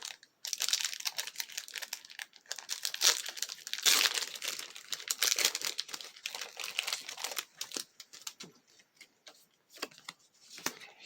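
A Pokémon Battle Styles booster pack wrapper torn open and handled up close, a steady run of crinkling, crackling foil with brief rips, fairly soft and continuous for about ten seconds with no talking.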